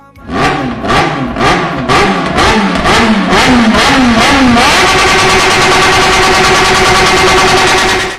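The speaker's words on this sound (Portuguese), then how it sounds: "fica a lendária XJ6, que sem dúvidas nenhuma tem o ronco mais lindo de todos o mundo das motos" A Yamaha XJ6 motorcycle engine revs hard in a rapid series of throttle blips that rise and fall, then settles into a sustained high-pitched roar, loud and close with no talk.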